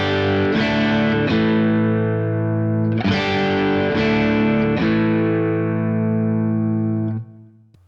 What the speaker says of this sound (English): And here's the Dirty Shirley inside the Kemper.